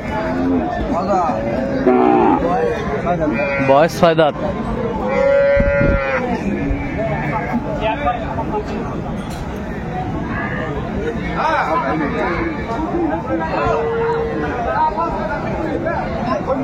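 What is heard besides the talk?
Sahiwal cow with calf mooing at cattle market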